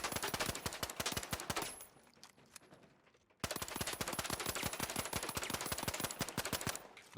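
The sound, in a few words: pistol gunfire in a video game shooter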